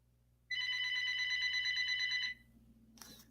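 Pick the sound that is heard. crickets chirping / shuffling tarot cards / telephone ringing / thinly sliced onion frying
telephone ringing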